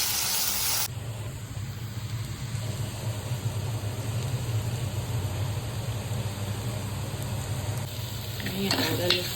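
Onion fries in hot oil with green chili and garam masala, a steady close sizzle that starts with a brief loud hiss and ends with a little clatter of stirring.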